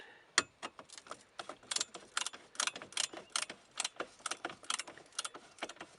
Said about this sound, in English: in this case, I'm using a 5/16 ratchet